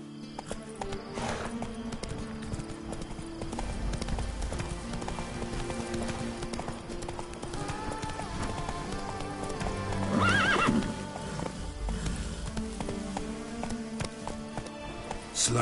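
A horse in The Witcher 3 video game clip-clops steadily across the ground with hooves beating throughout, neighing loudly once partway through, with game music and ambience underneath.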